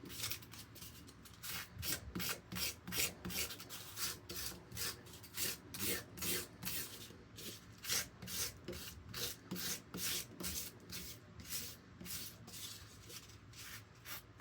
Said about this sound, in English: I'll just take this rasp and I'll just go around it.